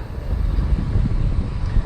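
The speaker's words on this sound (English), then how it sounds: "it is really windy today" Strong wind buffets the microphone in a constant low rumbling roar, with gusts swelling slightly and no voices present.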